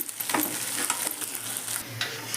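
Crushed garlic paste fries in a hot pan for gobi manchurian, giving a steady close sizzle with light scraping and stirring throughout.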